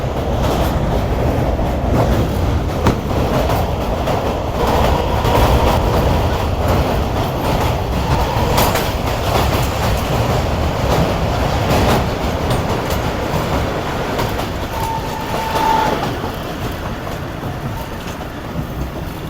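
A train crosses the Kotri bridge at high speed, its wagons rattling with steady clickety-clack over the rails, loud and continuous throughout, with a brief wheel squeal near the end.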